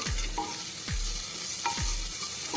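Green chillies and dried red chillies frying in hot oil in a pan, with a steady sizzle and repeated low scraping strokes of a spatula stirring them, close and continuous, no talking.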